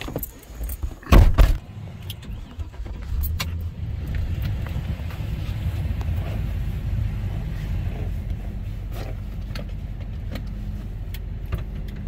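Truck with a 4L80-E automatic transmission on a test drive after a shift kit install, a steady low engine and road rumble heard from inside, with a brief rattling clunk early on and no talk.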